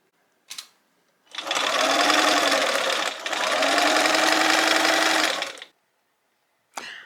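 A sewing machine stitches down a folded blouse hem in two sustained, close, loud whirring bursts with a short pause between, framed by brief clicks before and after.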